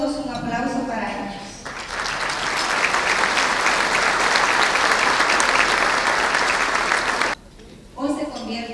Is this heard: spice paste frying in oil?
no